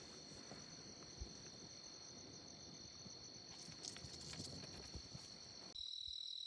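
Night insects in the West Texas desert chirping in a dense, continuous high-pitched drone, steady and fairly faint, with a few soft rustles and no talking.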